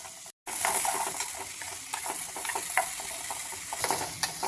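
Ash gourd pieces frying in ghee in a pan, a steady close sizzle and hiss with small crackles and occasional stirring scrapes, continuous after a brief silent break at the start.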